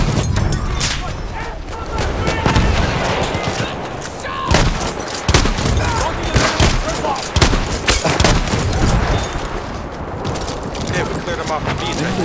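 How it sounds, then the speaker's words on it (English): Dense gunfire and explosions fill a Battlefield 1 battle on the Fao Fortress operations map, with bursts of machine gun fire under constant rattle and booms, and players talk over the din. "Machine gun! Over there!"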